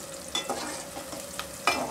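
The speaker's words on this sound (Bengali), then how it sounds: "পেঁয়াজটাকে একটু ভাজা হলে আমি এখানে মশলা দিয়ে দিব" Onions fry in a pan with a steady sizzle, broken by several sharp scraping stirs from a spatula.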